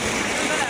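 Water sprays and splashes in a short, dense burst onto a mud-caked motorcycle being washed in a village, with voices nearby.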